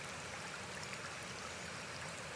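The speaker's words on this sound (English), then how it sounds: "just focus on the sounds of the water" Steady, dense rush of flowing stream water, unbroken and even throughout, with no voices, suited to a calm meditation setting.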